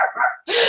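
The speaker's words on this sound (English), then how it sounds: "so sorry my dogs are barking for no reason" Dogs barking indoors in a home, a couple of loud, close barks with a short gap before a sharper final burst.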